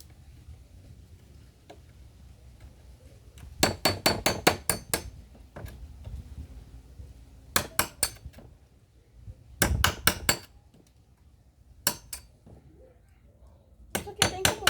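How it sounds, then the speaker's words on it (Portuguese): A big hammer pounds in quick bursts of rapid, sharp blows while a homemade speaker box is built, several volleys spaced by pauses, loud and close against a quiet background. "O martelão não pode faltar."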